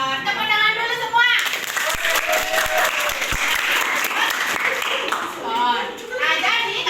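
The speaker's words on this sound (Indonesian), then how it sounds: "Tepuk tangan dulu semua." Children in a math class clap their hands together in a lively burst of group applause, framed by children's voices talking and calling out before and after the clapping.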